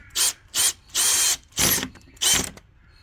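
A cordless power drill tightens the fasteners on a folding-arm awning bracket in five short, loud whirring bursts separated by brief pauses, heard close with no talk.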